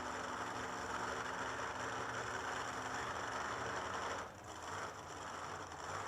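A turbocharged Pro Mod drag car engine warms up at a drag racing event, a loud, steady, rough mechanical drone with a rapid ratcheting texture that dips briefly and then resumes.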